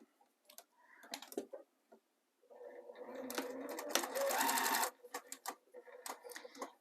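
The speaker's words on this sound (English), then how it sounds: "we're just going to stitch close to the zipper" A sewing machine stitches along a zipper on a zipper pouch in short bursts, then a longer steady run of rapid stitching, close and fairly loud, with brief clicks between.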